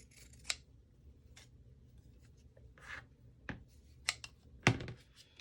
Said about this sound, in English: I went ahead and used the pinking shears and just cut all the way around my ribbons here